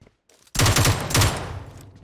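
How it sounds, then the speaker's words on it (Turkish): A Mutant rifle fires in the battle royale game PUBG Mobile: after a near-silent moment, a loud, close burst of rapid automatic shots erupts, then continues in a second volley before fading. "Mutantla vuracağım dur."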